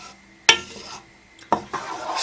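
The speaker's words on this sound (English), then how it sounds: "Stir it well" A spoon stirs rajma masala in a cooking pot, giving two sharp clanks against the metal followed by short scraping and soft sizzle, close and clear.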